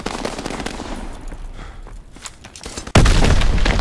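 A bolt-action M1903 sniper rifle shot in Call of Duty: World War 2 multiplayer cracks out loud and sudden near the end, after a few seconds of busy, rumbling battle noise, and leaves a dense roar.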